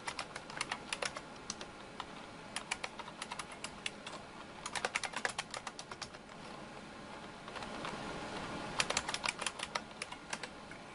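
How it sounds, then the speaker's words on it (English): Fingers type on a computer keyboard while entering a name into a live support chat window: quick, uneven runs of light key clicks in bursts with short pauses, close and fairly clear, with no talking. "I guess I'll type my name."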